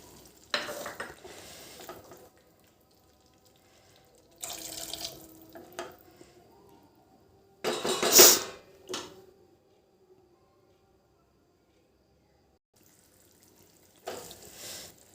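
Water pours into a cooking pot for cooking fish in four separate bursts, each a few seconds long, with quiet pauses between and a brief splashy peak in the middle.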